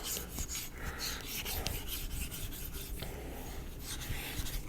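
A knife is stroked back and forth on a 6000 grit Nano Hone ceramic whetstone, giving a steady, soft rasping scrape in repeated close strokes with no talk.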